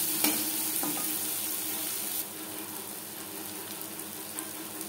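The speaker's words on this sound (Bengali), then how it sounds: "মাছ ভেজে নেওয়া তেলে দিয়ে দেব পেঁয়াজ কুচি।" Chopped onions hitting hot oil left from frying fish, a loud crackling sizzle with a brief stir clatter, then dropping to a steadier, softer frying hiss.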